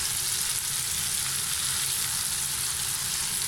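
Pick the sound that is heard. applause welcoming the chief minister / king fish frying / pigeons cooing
king fish frying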